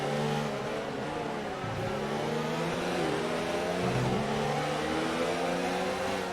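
Ferrari and Red Bull F1 cars racing at the Singapore GP in a video game, a continuous mid-pitched engine drone with shifting gear tones and small rises and dips in revs, close and steady throughout.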